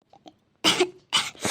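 An elderly woman with a cold coughs: two faint short throat sounds, then two loud, harsh, close coughing bursts in quick succession.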